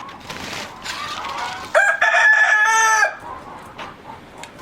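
A Turkish ispenç rooster from Oltu crows once, a loud drawn-out call with a rising start and falling finish, set against faint background chatter and farmyard noise on a farm.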